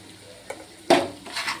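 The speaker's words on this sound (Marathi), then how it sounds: "छान परतवून घ्यायचे।" Ridge gourd being sautéed with peanut powder in a pan gives a soft sizzle broken by sharp scrapes and clinks as it is stirred, close and with no talk.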